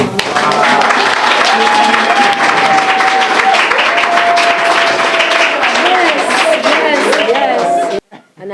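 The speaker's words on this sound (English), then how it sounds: "So I would like you all to give a round of applause." An audience at a school netball competition launch bursts into loud, dense applause with cheering and voices over it, lasting several seconds before it cuts off abruptly.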